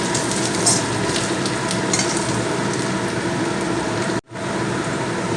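Ginger sizzling and frying in hot oil, stirred steadily in a pan, a loud continuous crackle close up with a brief drop in the middle.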